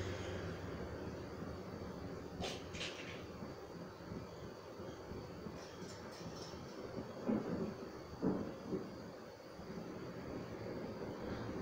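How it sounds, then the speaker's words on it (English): A thunderstorm rumbles in Call of Duty Black Ops Cold War, low rolling thunder under a steady hiss of rain, with a few louder distant cracks and booms. "That a storm?"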